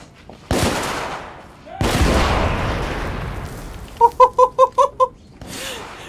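Gunfire in The Order: 1886 video game: two heavy blasts with long rumbling tails, then a quick run of six sharp, evenly spaced pulses, all loud and close.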